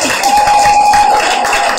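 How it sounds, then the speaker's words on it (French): A seated crowd at a women's political panel ceremony rises to give a candidate a standing ovation, with loud, steady, dense clapping and some cheering that fills the whole moment. "On peut se lever pour applaudir notre candidat"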